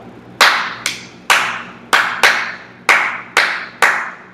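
Eight sharp hand claps ring out in an uneven rhythm, each a crisp broadband smack with a short decaying tail, close and loud in a quiet room.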